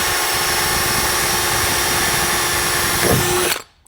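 A small drill bit bores pilot holes while a trail locker is installed, giving a steady, loud, continuous motor whine that surges briefly near the end before cutting off abruptly.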